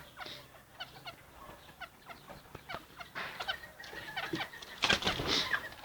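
Young chickens from this year's brood cluck and peep in a farmyard, a scatter of short close calls building toward louder squawks near the end, with no one speaking.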